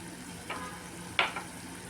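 Fenugreek leaves sautéing with ginger-garlic paste and turmeric in a pan for pulao, a steady close sizzle with a couple of brief louder hisses as ingredients are stirred.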